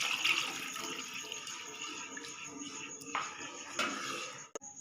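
One and a half cups of water poured into a cooking pot, a steady splashing rush of liquid that holds for several seconds, fairly close, then stops abruptly with a light clink at the end.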